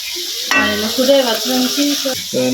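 Food frying and being stirred in a pan in a home kitchen: a loud, continuous sizzle with scraping stirs, close to the microphone, and no talking.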